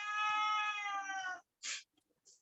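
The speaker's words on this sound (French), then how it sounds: "Non, c'est mon chat qui miaule." A house cat meows, one long close wailing cry lasting over a second, followed by a couple of short soft breathy sounds in an otherwise quiet room.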